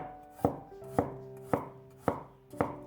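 A knife slices peeled garlic cloves on a cutting board: five crisp, evenly spaced thuds, each cut ringing briefly against the board, close and clear with no voices.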